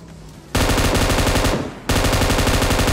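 Automatic gunfire in the mobile battle royale game PUBG Mobile: a long, loud sustained burst starting after a quiet moment, a brief dip, then another continuous burst of rapid shots, with no talk.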